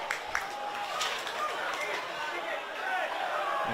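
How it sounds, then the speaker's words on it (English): Home supporters in sky blue cheering at an NPL men's semi-final football match between Brisbane City and Lions FC, a steady broad crowd roar with scattered shouts and whistles, with no clear peaks. "You can hear the home supporters certainly cheering for that sky blue jersey."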